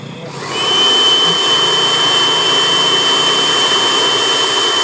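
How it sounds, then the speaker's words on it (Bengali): Compressed air blasts through a motorcycle engine in a loud, steady hiss and roar that starts abruptly and holds at close range, with a faint high whine on top. "ইঞ্জিনের ভিতরে এভাবে বাতাস দিয়ে ওয়াশ করা কি ভালো নাকি খারাপ"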